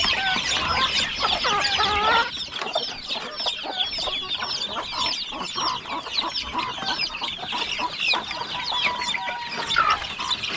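Chickens cluck busily and close by, with a hen tending two half-grown chicks, the clucks and peeps overlapping in a steady, dense chatter for the whole stretch with no talking.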